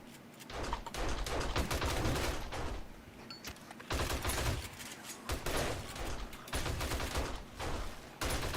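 A shotgun fires repeatedly in the video game 7 Days to Die, loud heavy blasts in quick bursts with short pauses between them, continuous across the whole stretch.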